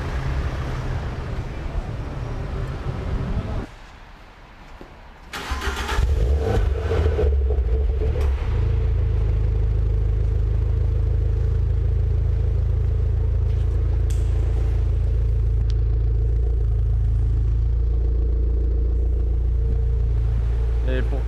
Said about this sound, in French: Et la venue d'une R8 V10 Plus